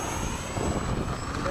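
E-flite 80mm F/A-18D RC ducted-fan jet making a low pass at a flying field, a brief, steady whooshing whine heard from a short distance.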